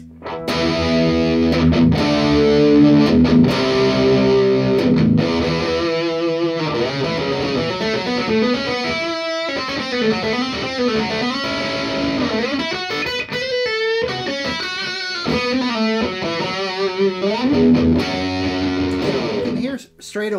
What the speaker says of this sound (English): here we have the DoD Gunslinger distortion pedal